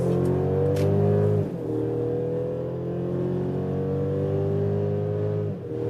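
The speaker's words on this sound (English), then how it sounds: "Let's go to the sports mode, and then we can do first acceleration onto the motorway from 60 kilometers an hour." A 2023 Mercedes GLC 300 AWD in sports mode accelerates hard onto a motorway from 60 km/h, heard from inside the cabin, its engine droning and climbing in pitch with two brief dips at gear changes.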